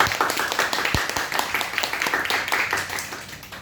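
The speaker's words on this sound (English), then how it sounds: "So let's give her a round of applause." Members at a Toastmasters club meeting clap for the meeting manager, a small room's worth of hands producing brisk, close, somewhat uneven applause with distinct individual claps throughout.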